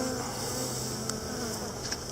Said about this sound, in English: we've got quite a few buzzing around here, which we don't really like, but I think they're okay